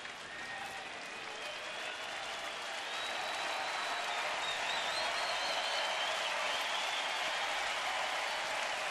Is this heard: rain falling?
no